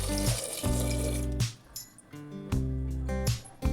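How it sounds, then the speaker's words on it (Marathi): Water is poured into a pressure cooker holding washed potatoes, falling in a few splashing bursts with short pauses between them, close and fairly loud. "बटाटे उकडण्यासाठी त्यामध्ये थोडेसे पाणी घालणार आहोत।"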